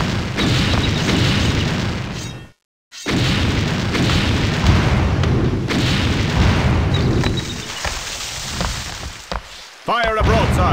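Broadside cannon fire from a ship in the Anno 1602 game, a dense roar of overlapping booms and blasts rolling on for seconds, broken by a brief silence, with later bursts and voices calling out.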